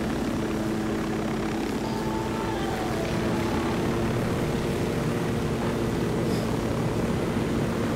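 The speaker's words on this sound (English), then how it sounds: "Tuh itu ada chopper-nya tuh." A helicopter flying over terrain in Ghost Recon Wildlands, a continuous broad rotor and engine drone holding steady and loud throughout, with no talk.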